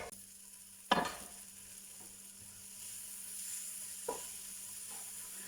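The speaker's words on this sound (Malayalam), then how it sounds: "ടൊമാറ്റോ ഇട്ട് മിക്സ് ചെയ്തതിന് ശേഷം ഒന്ന് അടച്ചു വെച്ച് വേവിക്കുക" Tomato being stirred into onions in a pan for Kerala-style fish curry: a soft background sizzle with a few sharp spoon scrapes and clinks, one louder knock near the start.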